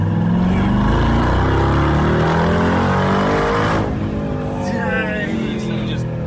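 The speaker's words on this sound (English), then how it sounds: "When the turbos spool up, this thing just goes." A rebuilt, previously wrecked 2022 Mercedes G63 G Wagon roars loudly as its engine revs and the turbos spool, a sustained, close, throaty drone that eases slightly partway through, with voices mixed in.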